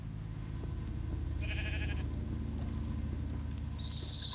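A sheep in the Minecraft video game bleats in short synthetic bursts over a steady low game hum, fairly quiet and with no talking.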